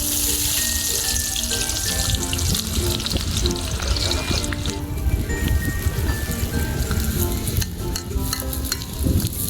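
Loud, steady sizzling of small shallots frying in hot oil for a village-style bitter melon roast, with stirring scrapes and clatter throughout.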